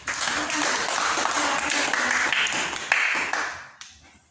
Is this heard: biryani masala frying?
no